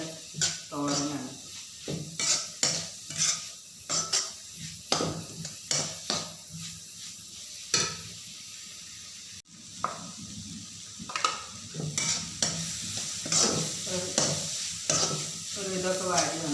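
Onion thoran frying in a pan on the stove, stirred with a series of sharp scraping strokes over a steady sizzle, close and fairly loud throughout.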